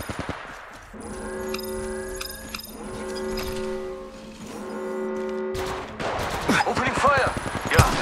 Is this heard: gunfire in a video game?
yes